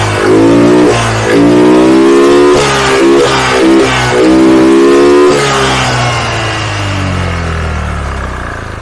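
Honda Vario 110 scooter engine revving repeatedly under throttle, loud and close, rising and falling in several pulses before settling back toward idle.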